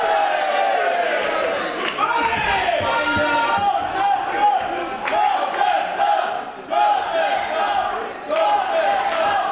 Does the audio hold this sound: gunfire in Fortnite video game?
no